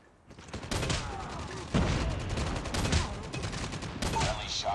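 Rapid gunfire bursts in a Nuketown Domination match of the Call of Duty Mobile video game, with four sharp volleys of rattling automatic fire in close succession, fairly near.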